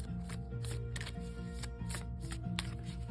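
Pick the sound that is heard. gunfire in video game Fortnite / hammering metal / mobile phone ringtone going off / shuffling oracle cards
shuffling oracle cards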